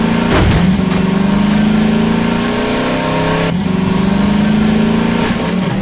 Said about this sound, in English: It always kind of feels like the engine noise is reasonable for what's going on.